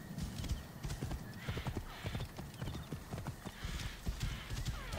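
Horse hooves clip-clopping at a steady walking rhythm in the Assassin's Creed Origins video game, close and clear, with a brief whinny and faint game ambience behind.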